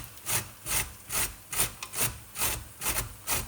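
Beetroot rubbed against the coarse side of a kitchen grater in an Indian home kitchen, about nine steady rasping strokes in an even back-and-forth rhythm, close and fairly loud with no talking.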